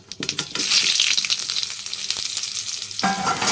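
Potatoes dropped into hot oil in a pan, a loud, bright sizzle erupting after a brief stir and holding steady, with a short clatter near the end.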